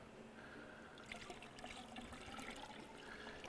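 Plain water pours into the container of a Fountains of Hope water purifier system, a faint continuous splashing trickle that grows slightly busier partway through, with no talking.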